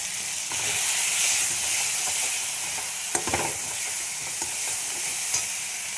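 Red chili powder fries in a pan for a light fish curry, a bright close hissing sizzle with stirring scrapes and a few sharp taps, steady and fairly loud without speech.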